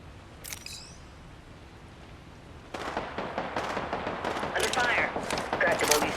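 Video game gunfire in a firefight, quick bursts of rapid automatic shots that begin faintly and build into a dense, fairly loud stream of cracks.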